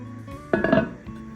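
A lid set onto a pot of lasagna soup on the stovetop, one short metallic clink and rattle close by in a quiet kitchen.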